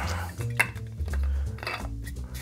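Metal clanks and scrapes sound up close as someone struggles to fit the lid onto a cocktail shaker holding a maraschino cherry margarita, with several short knocks and clinks over a couple of seconds.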